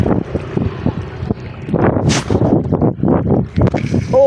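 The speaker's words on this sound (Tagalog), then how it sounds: "lakas ng hangin" Strong gusting wind buffets the microphone on a fishing outing by the water, a rough continuous roar that swells louder partway through, with muffled voices talking underneath.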